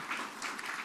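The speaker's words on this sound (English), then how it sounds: "Give her a round of applause." An audience at a state bill-signing event applauding, a brief steady wash of clapping at moderate level with no voices over it.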